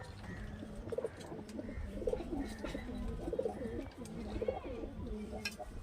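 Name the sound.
pigeons cooing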